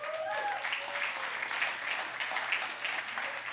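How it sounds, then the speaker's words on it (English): An audience at a blockchain forum applauds a partner in the room, a steady, moderately loud field of clapping that holds evenly without any talk. "Everybody give Craig a round of applause."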